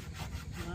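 A small hand saw rasps through wood in a short, continuous stroke, close and fairly quiet.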